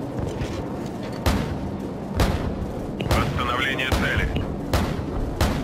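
Heavy AC-130 artillery fire in Call of Duty 4: Modern Warfare booms out in several spaced blasts under steady engine drone, while radio voices talk over the shots.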